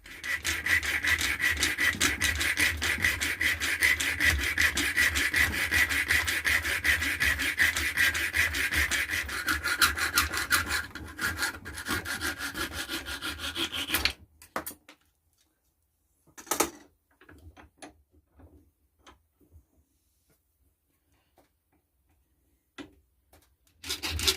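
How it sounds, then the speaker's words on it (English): A small hand saw cuts a screwdriver slot in a fastener during a workshop repair, with steady, close, rasping strokes for about fourteen seconds. The sawing then stops, leaving near silence and a few faint knocks. "I'm going to cut a slot in it so I can use a screwdriver on it to tighten it up"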